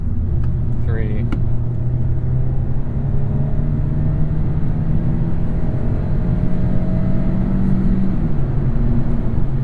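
A 2025 Hyundai Elantra Hybrid Limited with a dual-clutch automatic downshifts in manual sport mode, its engine drone humming steadily and loudly with brief shifts in pitch over constant road rumble inside the cabin.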